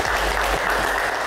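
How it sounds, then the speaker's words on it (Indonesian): A studio audience at an evening talk show applauds, a dense, steady wash of clapping that fills the whole moment. "Kita berikan tepuk tangan dulu malam ini."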